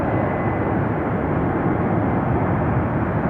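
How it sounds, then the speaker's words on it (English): A Boeing 767 airliner on its takeoff roll at Atlanta gives a steady, powerful jet engine roar, loud and unbroken throughout with no talk over it. "That's a 767 on the roll. Feel the power, feel the thunder."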